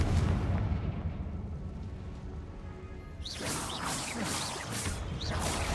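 Confringo fire spell from the Hogwarts Legacy video game, heard as a continuous loud, rumbling blast and roar with crackling bursts that swell again partway through, with no talking.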